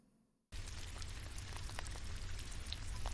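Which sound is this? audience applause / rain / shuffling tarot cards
rain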